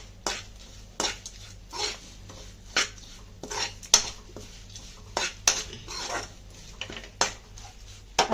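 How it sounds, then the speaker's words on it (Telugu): A metal spoon clinks and scrapes repeatedly against a pan as turmeric is stirred into hot oil for a broad bean fry. The knocks are irregular and close, with a low hum beneath. "పసుపు వేసి బాగా ఇలా కలపాలి."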